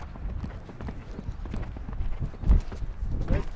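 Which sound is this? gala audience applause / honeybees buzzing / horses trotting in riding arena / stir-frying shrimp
horses trotting in riding arena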